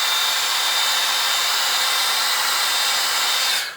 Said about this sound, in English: always remember your hair dryer